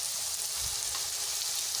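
Ginger chitranna ingredients frying in a pan, a steady close hiss and crackle of oil that continues evenly throughout with no talking.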